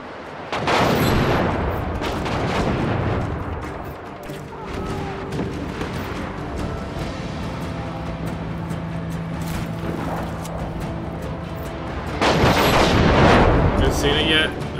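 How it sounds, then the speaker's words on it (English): Rockets fired at the player in Just Cause boom and roar amid dense, continuous explosive rumble, with loud blasts bursting at the start and again near the end of the chaotic combat. "I'm trying to find this thing that's shooting rockets at me"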